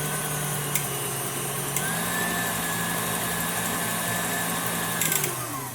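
Electric hand mixer creaming butter and sugar for chocolate banana bread batter, a steady motor whine with brief clatters as the beaters hit the bowl, close and continuous.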